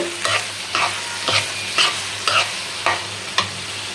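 Whole garam masala, bay leaf and cumin fry in hot oil while a spoon stirs them in regular strokes, about seven scraping swishes over a steady, close sizzle.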